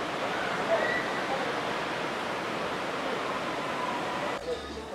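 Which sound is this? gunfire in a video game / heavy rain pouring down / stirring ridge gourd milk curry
heavy rain pouring down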